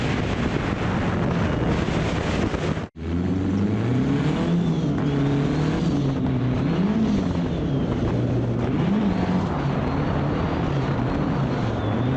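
Car lapping a drift circuit at Seneca Circuit with a faulty e-brake, engine droning loud and close with rising and falling revs, wind buffeting the microphone, a brief dropout early on.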